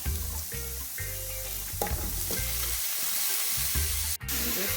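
Vegetables frying in a pan with minced garlic, a loud close sizzle and hiss with repeated scraping and stirring from a utensil, with no talk.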